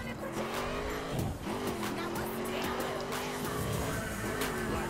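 A car in the racing game The Crew spins out: a steady engine drone holds throughout, with a brief scrubbing skid of tires near the one-second mark.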